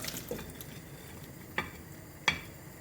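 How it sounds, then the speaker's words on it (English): Beef and onions with their resting liquor are tipped into a pot, making a soft wet shuffle and then two sharp clinks of a utensil against the pot, quiet and close. "In goes your beef and onions with all that resting liquor."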